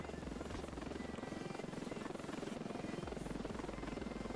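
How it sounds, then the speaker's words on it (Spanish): Helicopter flying in the Ravenfield war game, a desert battle setting: continuous rapid rotor chop with a buzzing engine drone, steady and fairly close, no talk. "Helicóptero otra vez, enemigo."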